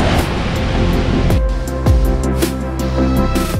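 Large ocean waves crash on Zipolite beach in a loud, continuous roar of surf with broad rushing wash throughout.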